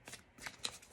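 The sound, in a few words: shuffling tarot cards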